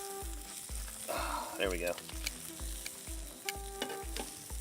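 Food for a Cuban sandwich sizzling in a hot frying pan, crackling up close under a repeating low thump, with a brief spoken remark partway through.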